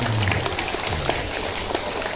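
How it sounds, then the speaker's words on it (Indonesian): A school crowd at a morning opening assembly claps together, a dense burst of applause that stays steady and fairly loud for its short length. "Oh, tepuk tangan."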